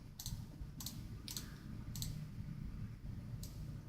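Sparse, light clicks from a computer keyboard, about six isolated taps spaced unevenly over a low background hum, with no talking.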